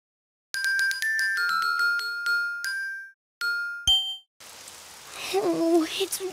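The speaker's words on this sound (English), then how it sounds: "raining outside" Rain falling outside comes in as a steady hiss, following chiming, ringing tones from a children's animated game.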